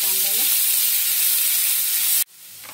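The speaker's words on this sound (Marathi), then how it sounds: "कांद्याचा कलर चेंज होईपर्यंत चांगलं परतवून घ्यायचं." Finely chopped onion sautés in a hot pan with a loud, steady sizzle and hiss that cuts off abruptly near the end, then returns faintly, with a brief low hum before the sizzle.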